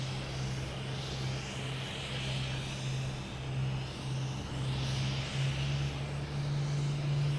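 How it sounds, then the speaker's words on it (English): A British Airways Airbus A380 turns onto final approach at Boston Logan, a far-off, steady airliner rumble that holds evenly under broad outdoor noise with a constant low hum. "That is the British Airways A380 out there, taking the final turn."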